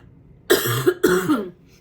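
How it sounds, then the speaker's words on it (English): Two sharp, close coughs in quick succession, each a short harsh burst, with quiet before and after. "Hold on a second, I'm going to cough."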